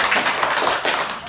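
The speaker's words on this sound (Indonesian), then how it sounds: "Tepuk tangan dulu buat Tri." Clapping from a classroom of students during a teacher performance assessment lesson at an Islamic primary school, a short dense burst of many hands applauding together at close range.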